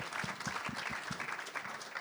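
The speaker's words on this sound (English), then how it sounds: "Round of applause, all our trainers." A room full of people applauds the trainers at a racing preview event, brief dense clapping close by with a few sharper individual claps standing out.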